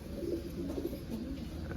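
A pigeon coos softly, a few low murmuring calls over faint background noise.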